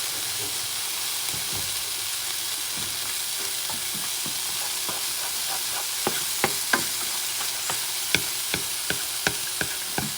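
An egg sizzles in a hot pan alongside cauliflower fried rice, a steady loud frying hiss, joined later by a run of quick utensil taps and scrapes against the pan, with no talk.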